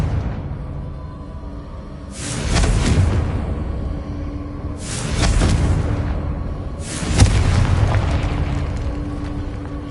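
A fire-blast spell in the Hogwarts Legacy video game goes off three times, each a loud booming explosion with a crackling burst that rolls off into a rumbling tail over steady low background ambience.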